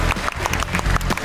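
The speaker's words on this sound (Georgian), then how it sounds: "აპლოდისმენტებით გავაცილოთ ანკა შენთან" An audience in a studio show applauds to send off a performer named Anka, a dense, steady burst of clapping from a crowd throughout.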